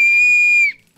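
A toy whistle blown at a Catalan Christmas Tió celebration, one sustained shrill high tone lasting about two thirds of a second before cutting off, loud and close.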